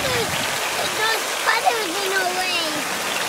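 Heavy rain falls outside a 10-person camping tent, a steady broadband wash that runs throughout with voices talking over it.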